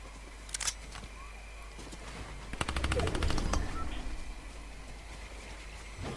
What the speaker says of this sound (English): it seemed like someone was firing at me and then got fired on by someone else